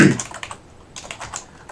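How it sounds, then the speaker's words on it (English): Quick bursts of keystrokes on a computer keyboard while writing Rust code, clattering in two short clusters separated by a brief pause, close and fairly quiet. "I get tired of typing"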